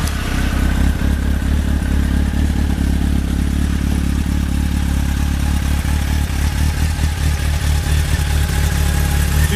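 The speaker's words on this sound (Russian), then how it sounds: "Попробуем завести." A 2001 Honda X4 LD motorcycle engine runs steadily at close range, a deep rumbling idle with mechanical clatter that holds even and loud throughout, with no talking.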